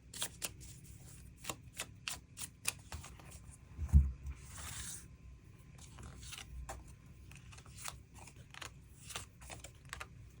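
Tarot cards are shuffled and drawn close up in a quiet room: soft, quick riffling flicks and papery taps in irregular bursts, with one louder thump partway through.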